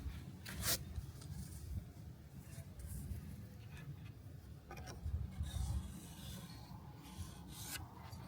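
A pencil or marker scratches and rubs along recycled wood as a line is traced around a template, giving soft, uneven rasping strokes with a few sharper scrapes, close by and fairly quiet.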